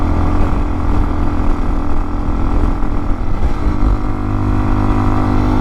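A cheap motorcycle engine labours loudly and steadily under strain, droning close up with heavy wind rumble and no letup in pitch.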